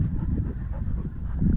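A village dog pants quietly and steadily nearby, under low outdoor rumble.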